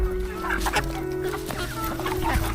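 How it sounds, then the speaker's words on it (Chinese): Farm chickens cluck at feeding time over a steady low hum, several hens calling at once in overlapping, close, fairly loud bursts. "抓紧喂鸡。"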